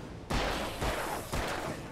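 Gunfire in the video game Alan Wake comes as three loud shots spaced roughly half a second apart. Each is a sharp crack that fades into a short echo.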